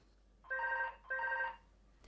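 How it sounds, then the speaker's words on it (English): A telephone rings twice in even bursts, each about half a second long, clear and moderately near in a quiet room. "When the phone rings, Margaret gets anxious."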